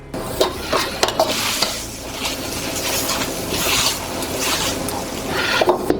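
Moo shu pork being stir-fried in a wok, the spatula scraping and tossing through a steady sizzle, with repeated clattering strokes and bursts of hiss up close, no voices.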